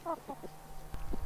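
A few short clucks from a chicken at close range, followed by some soft knocks and handling sounds.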